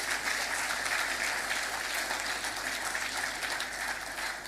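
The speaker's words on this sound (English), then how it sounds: "Can you please give a second round of applause" An audience at the opening of the 2026 National Fisheries Investment Conference gives a sustained, even round of clapping, dense and steady throughout with no speech.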